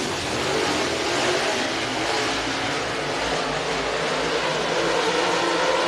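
Dirt track race cars accelerating at the green flag of a Topless Outlaws dash at Sugar Creek Raceway, a loud continuous engine roar that swells steadily as the field gets underway.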